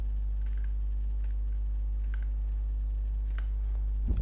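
A few scattered key presses on a computer keyboard, including an enter key, set against a loud steady electrical hum, with a louder clack near the end and no talking.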